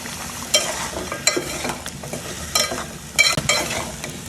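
Rohu fish and radish curry with coriander leaves being stirred in a pan, a continuous sizzle broken by several scraping spoon strokes at irregular intervals, close by.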